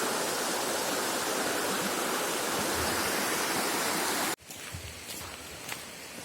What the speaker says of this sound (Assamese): এয়া নদী বৈ যাই আছে